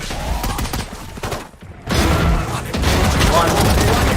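Pistol gunfire and rapid multi-kill shooting in a competitive shooter esports match, loud dense bursts of shots that drop out briefly before resuming, layered with excited casting and game effects.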